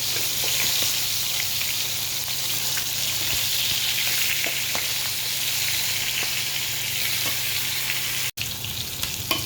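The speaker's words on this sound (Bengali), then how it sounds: "সবগুলা মাছ ভাজা হয়ে গেল।" Pieces of fish fry in a pan with a constant, close sizzle and crackle throughout, briefly cutting out near the end before resuming.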